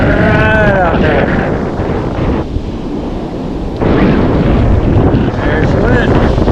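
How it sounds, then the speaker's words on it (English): Strong wind buffets the microphone at New Smyrna Beach, Florida, during shark fishing. It is loud and steady throughout, with only a brief lull partway through. "There's the wind."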